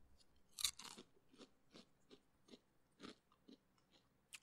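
Crunchy food chewed close to a microphone during a dinner snack, a series of sharp crisp bites and crunches in an irregular rhythm, loud against a quiet background.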